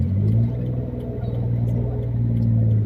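A car climbs an uphill road during a driving lesson, its engine a steady, close, low rumble under faint talk from the people inside.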